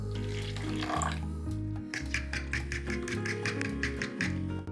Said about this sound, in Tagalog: Ibinadagdag natin ang tubig.